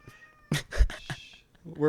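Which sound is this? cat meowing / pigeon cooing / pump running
cat meowing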